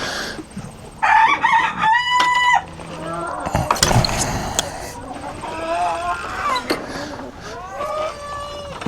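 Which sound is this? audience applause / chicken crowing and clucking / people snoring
chicken crowing and clucking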